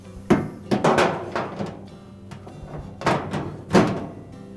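A Whirlpool dryer's lower access panel is tucked under the front panel during an idler pulley repair, making a handful of close, hollow sheet-metal thumps and knocks in two bursts, with no voice.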